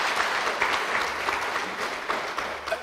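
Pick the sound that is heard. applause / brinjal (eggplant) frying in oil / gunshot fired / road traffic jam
applause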